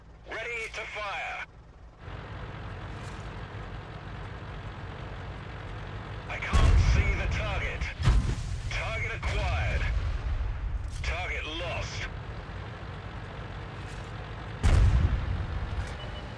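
Tank gun firing in a video game, a few heavy booming blasts spaced several seconds apart amid game sounds, with a voice talking between shots.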